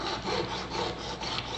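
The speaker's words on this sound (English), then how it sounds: "starting to saw here" A hand saw draws back and forth through a tube rivet in steady, rhythmic strokes, a close, raspy cutting sound with no voices.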